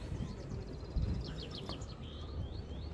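Birds chirp and trill in short bright bursts outdoors at a campground in the Netherlands, fairly faint, over a low steady background rumble.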